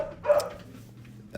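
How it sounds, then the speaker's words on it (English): A pet dog lets out a single sharp bark indoors, followed by a faint whimpering tail. Heard fairly close but not loud, alone without talk. "Sorry, my dog."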